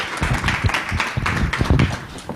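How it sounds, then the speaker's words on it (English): A modest crowd at a Women in Leadership 2020 event claps in an irregular patter, with individual hand claps close and distinct rather than a dense roar, continuing for a couple of seconds with no talk. "Give Miss Myrna"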